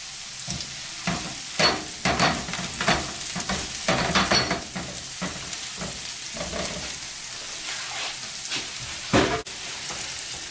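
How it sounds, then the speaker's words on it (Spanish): Diced red bell pepper, garlic and onion sauté in a pan, a soft continuous sizzle punctuated by repeated spatula scrapes and clinks at an irregular pace, close and moderately quiet. "vamos a dejarlo cocinando por unos 30 segundos más que se sofrían eh, los vegetales, el ajo con la cebolla, el pimiento"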